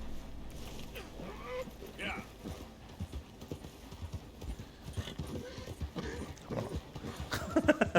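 A horse in the video game Red Dead Redemption 2 clops along with quick, uneven hoofbeats under game ambience, while someone talks over it and the footfalls grow louder and busier toward the end.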